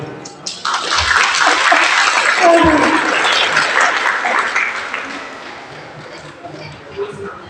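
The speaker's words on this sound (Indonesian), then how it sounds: "Tepuk tangan dulu." Audience applause at a women's anniversary celebration of a GIDI church congregation in Timika, a dense crowd clapping loudly for several seconds and then thinning out, with voices mixed in.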